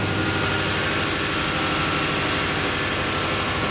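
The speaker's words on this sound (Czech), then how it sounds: "Je to spalovací motor, který spaluje zemní plyn." The natural-gas combustion engine of a cogeneration unit runs in a rented municipal gas boiler room. It makes a loud, constant mechanical drone with a dense low throb and broad high hiss, and nobody speaks over it.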